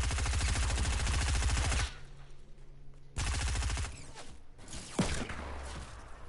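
Rapid automatic gunfire in a team shooter video game, loud dense bursts of repeating shots broken by short pauses, with a whoosh and scattered quieter shots in between.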